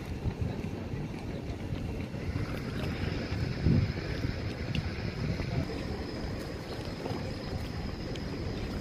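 A boat moves across the sea off Lamu on a summer day, its steady broadband rumble blending with continuous wind buffeting the microphone and a brief louder swell near the middle.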